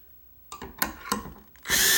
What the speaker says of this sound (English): use an eyelet lag screw in a drill